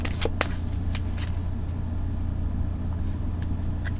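Tarot cards shuffled and drawn, a few crisp riffling flicks and slides near the start and scattered through, over a steady low rumbling hum.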